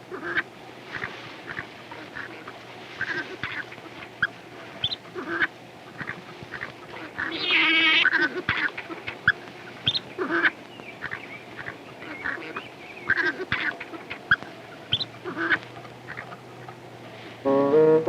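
Coati cubs on unstable branches cry out with rapid, frightened squeaks and nasal squawks, repeated in dense bursts that swell louder midway and again toward the end, over a steady low background hum.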